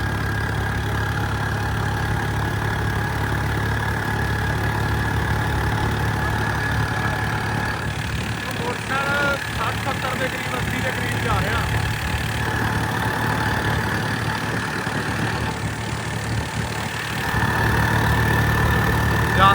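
A motorcycle engine idles steadily nearby, its low, even drone running unbroken for the whole stretch, with faint murmurs of people in the background.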